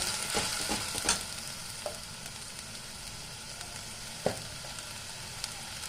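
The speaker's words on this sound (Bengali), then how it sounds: "মশলাটা ভালো করে কষিয়ে নেব" Spice paste with two tomatoes frying in a pan for aloo dum, a faint, low sizzle with a few scattered clicks and scrapes of stirring, quiet and unaccompanied by speech.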